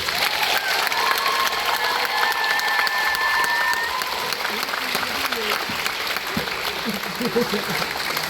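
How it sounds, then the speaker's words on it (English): Audience applause honoring laureates at a memorial lecture event, loud continuous clapping from a large crowd with cheers and voices mixed in throughout. "Let's give your 2025 Milde McWilliams presentation laureates another thankful round of applause."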